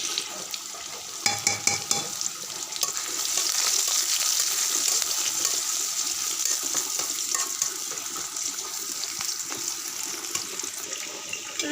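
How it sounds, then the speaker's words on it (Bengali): Crushed garlic frying in hot oil in a wok, a steady hiss and sizzle with a few clinks of stirring, faint and close, no talk. "রসুন থেতলো করে দিয়ে দিয়েছে, দিয়ে ভালোভাবে ব্রাউন করে ভেজে নেবে।"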